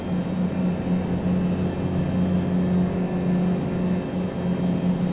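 A Mack R two-stroke truck engine in American Truck Simulator drones steadily with a continuous low rumbling whir and a faint tonal hum, held at constant revs without talk.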